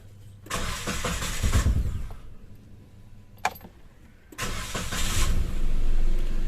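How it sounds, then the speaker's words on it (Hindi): A BS6 motorcycle engine cranks and catches, with a rough burst of running engine noise, a short pause broken by a sharp click, then the engine roaring steadily again, close and fairly loud. "गाड़ी हमारी स्टार्ट हो चुकी है।"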